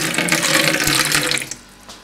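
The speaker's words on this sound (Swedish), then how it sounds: "Och det måste vara kallt vatten. Sen häller man i vattnet här." Cold water is poured in a steady splashing stream for about a second and a half, then stops abruptly.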